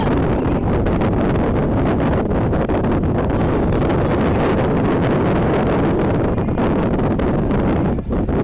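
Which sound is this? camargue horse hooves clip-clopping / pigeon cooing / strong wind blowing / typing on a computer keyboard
strong wind blowing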